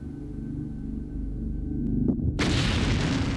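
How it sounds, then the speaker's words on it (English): Bomb explosion inside an aircraft luggage container during a test, a low rumble that ends in a sudden loud, broad blast which stays at full level as it cuts off. "could glare even stand up to terrorist attack, like these bomb explosions?"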